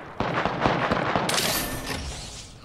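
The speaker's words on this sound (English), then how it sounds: "I hear gunfire." Gunfire in Apex Legends: a dense, rumbling stretch of rapid shots and booming impacts, loud and continuous, with no talk over it.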